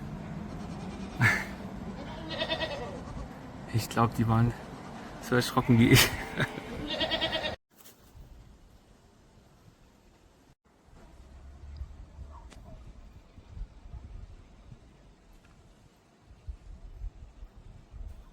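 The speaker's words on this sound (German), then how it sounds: "Ich habe hier gerade ein kleines Häuschen gesehen und es sind Ziegen drin." Goats in a small shed on Madeira let out several close, nasal bleats mixed with a person speaking. Then it fades to quiet, faint outdoor ambience.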